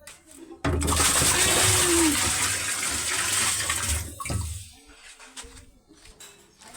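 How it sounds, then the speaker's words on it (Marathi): Water is poured over a child during a bath, a sudden loud gushing splash that runs steadily for a few seconds before trailing off into drips and quiet movement, with a voice briefly heard. "इकडे प्रज्वलची चालू आहे अंघोळ हे बघा प्रज्वलची अंघोळ पाणी आल्या आल्या पाणी टाकू रे"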